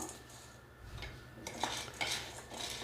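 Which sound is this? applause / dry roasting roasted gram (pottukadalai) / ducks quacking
dry roasting roasted gram (pottukadalai)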